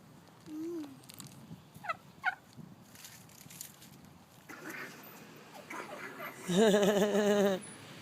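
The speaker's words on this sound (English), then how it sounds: "That's a turkey." A turkey gobbles close by in a loud warbling burst near the end, after scattered softer bird calls and chirps outdoors.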